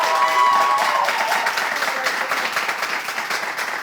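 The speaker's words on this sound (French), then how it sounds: "Applaudissez pour vous." A school audience applauds itself, a loud, close, continuous burst of many hands clapping with a faint crowd murmur beneath it. The clapping stays dense from start to finish.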